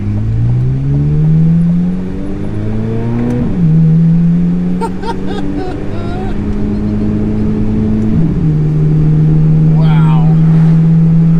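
A Chevrolet Corvette Z06 engine revs hard with an exotic, Ferrari-like wail, its pitch climbing through gears with clear shifts near the start and partway through, loud and close, while a person talks over it now and then.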